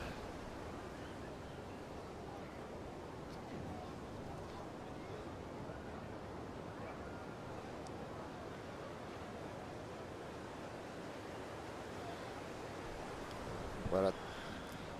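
Steady ocean surf and wind roar at Pipeline, Hawaii, a continuous broadband wash of breaking waves with gusty wind buffeting the microphone and a faint voice under it, rising in a brief louder burst near the end.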